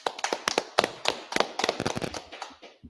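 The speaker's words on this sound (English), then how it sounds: "Clap it up." Congregation clapping at a Sabbath service in Charlotte, NC, a brisk run of sharp, uneven hand claps from several people, close and loud, thinning out toward the end.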